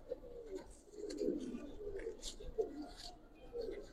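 A female Giribaz pigeon coos close by in low, repeated rolling calls, with light rustling between them.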